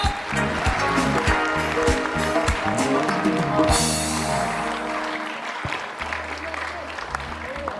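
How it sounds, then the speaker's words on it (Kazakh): A concert audience applauds in a hall, with dense clapping and intermittent crowd noise that tapers and thins toward the end, and low musical tones underneath. "Шапалақ!"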